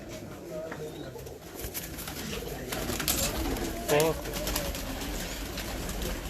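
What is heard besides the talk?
pigeons cooing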